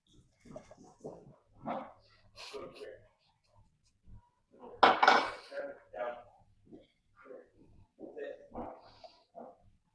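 Two dogs play rough on a kitchen floor, with bursts of growling and scuffling of varying loudness, one louder flurry midway, broken by short pauses.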